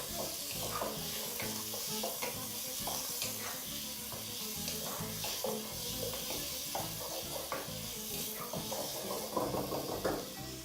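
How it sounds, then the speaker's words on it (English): Mutton browns on high heat in a pan, sizzling and frying steadily while being stirred, with repeated scraping knocks up close. "allowing your meat to really brown"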